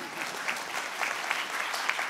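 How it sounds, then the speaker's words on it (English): An audience claps at a yoga panel discussion, a brief steady patter of many hands at moderate level with no speech on top. "And you can clap, too, if you want."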